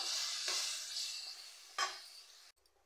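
Large pieces of mushroom fry in a pan while being stirred, a steady close sizzle broken by two scraping strokes of the spoon, ending abruptly.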